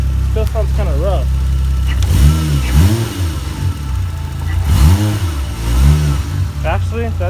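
A Mazda RX7 with a 1JZ engine swap revs in repeated rising and falling bursts over a rough, low idle, running a little unevenly.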